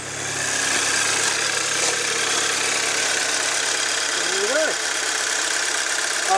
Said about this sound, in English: as with all TFSI engines, they've got that lovely distinctive rattle to them anyway